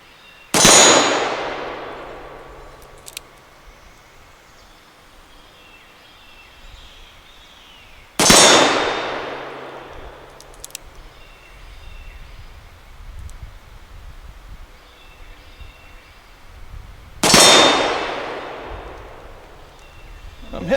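Three sharp shots from a .38 caliber Merwin Hulbert double-action revolver fired single action, each a loud crack with a ringing clang off a steel target, spaced about eight seconds apart and fading between.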